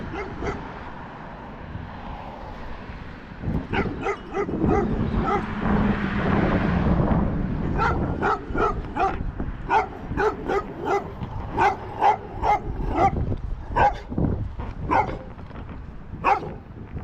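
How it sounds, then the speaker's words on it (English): A dog barks repeatedly in a run of sharp, fairly close barks with some whimpering yips, heard outdoors during a Fourth of July walk along a road, with no talking over it. "The dog wants to eat me."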